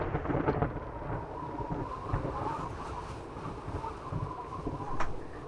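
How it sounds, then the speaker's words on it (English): Thunderstorm ambience in the survival video game 7 Days To Die, with steady rain and wind washing through and low thunder rumbling continuously at a moderately loud, close level, with no talking. "we're safe from the storm"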